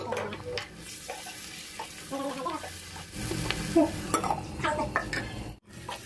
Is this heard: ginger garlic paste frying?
yes